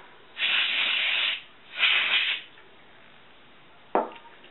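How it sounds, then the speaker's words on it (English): Two sustained hissing bursts of compressed air spray a slide projector lens up close, each about a second long, followed by a short sharp click. "Next, take the compressed air and spray the lens."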